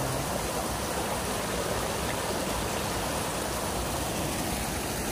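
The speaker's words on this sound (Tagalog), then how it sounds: "Kasi malakas po yung lagaslas ng tubig." A strong waterfall in an unnamed Philippine falls, its water rushing in a steady, dense roar that fills the whole clip, close and constant with no voices.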